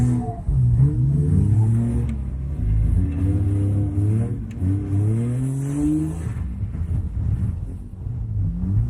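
A BMW drift car accelerates hard, its engine note rising and falling in repeated revving sweeps as it climbs through the gears, loud and close throughout with no talking.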